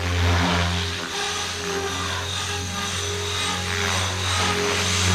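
A Blade Fusion 360 3S smart RC helicopter from Horizon Hobby flies in a yard, its rotors giving a steady, loud, continuous whirring drone with a strong low hum that holds throughout.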